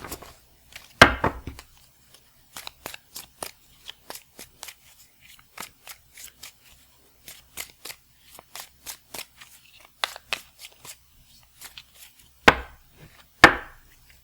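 Tarot cards are shuffled in a long run of crisp riffles and soft slaps, close and fairly loud, with brief pauses and a few heavier bursts of card noise.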